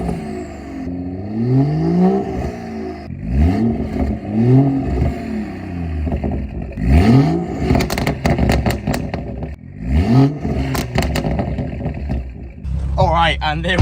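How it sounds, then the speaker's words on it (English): Straight-piped BMW M240 with a B58 engine, warmed up, revved repeatedly in loud rising and falling sweeps, with crackles and pops between blips and a burbling idle in between. "let's get some revs and then see what AI thinks to the M240's exhaust"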